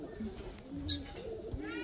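A Kaldoma female highflyer pigeon gives low, murmuring coos up close, with a faint voice and brief clicks mixed in.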